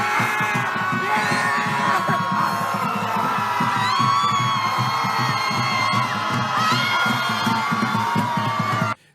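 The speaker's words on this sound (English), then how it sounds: "they're just literally screaming at the sky." A large crowd at an outdoor event screams and yells together in a sustained, loud roar of overlapping voices that stays at full level throughout and cuts off abruptly at the end.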